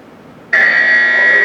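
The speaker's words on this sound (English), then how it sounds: "you don't get the warning buzzer in a real one" A warning buzzer on an earthquake simulator built as a small living area sounds as one steady, loud electronic tone that starts abruptly and holds without a break.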